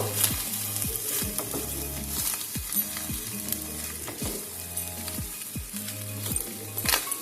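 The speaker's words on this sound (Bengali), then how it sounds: "দিয়ে আমি ভালো করে নাড়াচাড়া করে নেব।" Fried rice sizzles steadily in a hot pan while a spatula scrapes and stirs it in repeated strokes. The strokes come close together over an even bed of frying hiss, with no talking.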